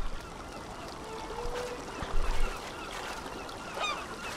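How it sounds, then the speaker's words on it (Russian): Seagull cries in the video game RiME: a few brief, high calls ring out near the end over a steady outdoor ambience with distant wind and surf. "Так, чайки."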